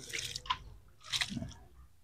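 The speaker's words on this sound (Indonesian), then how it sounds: "Kita siram media tanam." Water is poured onto planting soil in a bucket before chives go in, giving soft, quiet splashes, drips and squishy soaking sounds in a few short bursts.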